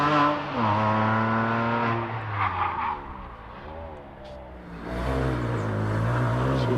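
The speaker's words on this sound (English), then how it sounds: "Tom Rossi has started his second practice run" A race car charges up the Prescott hillclimb on a practice run, its engine loud and close as it revs hard through the gears, drops off briefly mid-run, then surges again with rising pitch.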